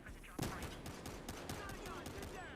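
Rapid automatic gunfire in Battlefield Hardline during a bank heist match, a fast string of sharp shots after an opening louder blast, fairly quiet overall with a faint voice under it.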